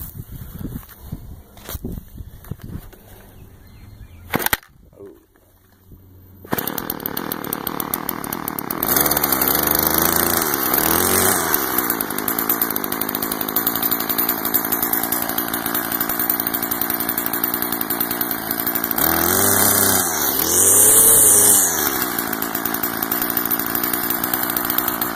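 A five-dollar Stihl FS 36 curved shaft string trimmer, burning off last year's old gas, fires up after a few sputtering pulls and settles into a loud, steady two-stroke drone, revving higher briefly near the end.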